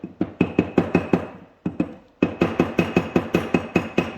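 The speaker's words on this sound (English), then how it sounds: "I believe this is a 16-ounce ball peen hammer." A 16-ounce ball peen hammer taps a metal car part in quick, evenly spaced sharp blows, a steady series of about seven strikes, a brief pause, then another run of a dozen or so, close and loud with no talking.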